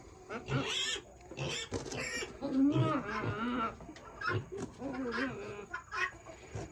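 A black goat on a farm makes strange, strained bleating and grunting calls in irregular bursts, close by, with some other animal noise around it.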